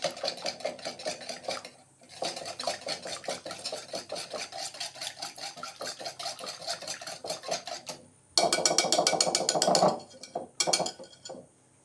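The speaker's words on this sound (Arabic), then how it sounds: "نحركو الخليط مزيان" A spoon stirs harcha semolina batter in a bowl with fast, rhythmic scraping and clinking, pausing briefly, then a louder, busier burst of stirring near the end.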